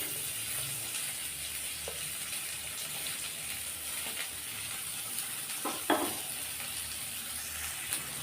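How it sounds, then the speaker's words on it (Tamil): Finely chopped onions sizzle steadily in a pan at low volume, with occasional scrapes and stirring clinks over the constant frying hiss. "இப்போ வெங்காயம் நல்லா வதக்கி விட்டுறலாம்"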